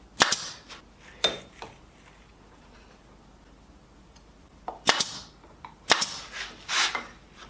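A pin gun fires brads into a walnut and maple jewelry box, several sharp snapping shots in small clusters separated by quiet pauses, close and loud.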